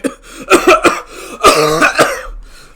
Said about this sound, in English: The room stood in shock at the coughing